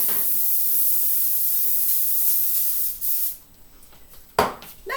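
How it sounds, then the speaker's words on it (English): Cooking spray hisses from a can onto a baking pan held over a kitchen sink, a steady close burst of several seconds, then a short quieter pause and one more brief sharp spritz. "I'm going to spray up my pan so I can start putting some pretzels on here."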